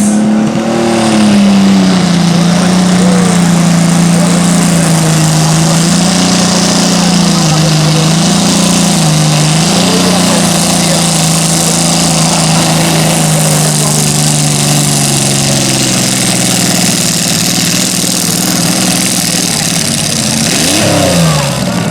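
Racing garden tractor fitted with an XR4 1.6 litre engine, loud and close, holding a steady droning engine note that rises and falls slightly as it revs, running continuously at a garden tractor race.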